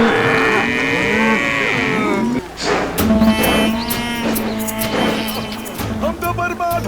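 Cows and bulls on a farm lowing in long, drawn-out moos, one after another and close by, followed by more moos and mixed farmyard noise in an animated children's cartoon.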